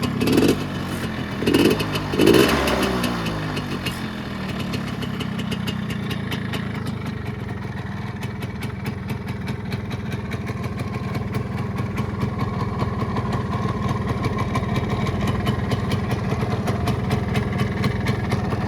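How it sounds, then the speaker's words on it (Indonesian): A 1975 Yamaha RS 100 Super two-stroke motorcycle engine idles steadily after a few revs at the start, settling into an even, close putter that runs on without talk. "ini untuk kondisi stasioner mesinnya"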